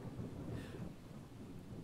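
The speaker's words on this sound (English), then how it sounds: "only been here two minutes and it's already raining" Low rumbling thunder rolls beneath a steady wash of rain in the video game The Towers of Mysteria Isle, continuous and moderately loud.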